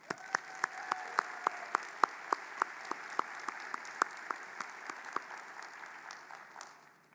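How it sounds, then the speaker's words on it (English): Audience applauding at a doctoral graduation ceremony, a steady wash of many hands with sharp individual claps standing out, moderately loud, gradually thinning toward the end. "Let's give them a round of applause."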